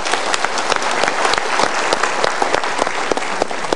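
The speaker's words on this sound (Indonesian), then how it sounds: "Yuk kita berikan tepuk tangan untuk diri sendiri." Studio audience at a live Indonesian motivational talk show clapping for themselves, a dense, loud, even burst of applause from the whole room, steady for several seconds.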